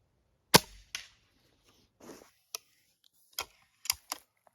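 Several sharp, distinct air rifle shots, a Chaika 14 firing H&N Baracuda Match pellets at 50 metres, spaced irregularly over a few seconds, each a crisp snap with a short tail, moderately near with no talking.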